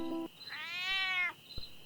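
A cartoon cat gives a single drawn-out, rising and falling meow, loud and close, with a brief higher tone just before it and a short knock just after.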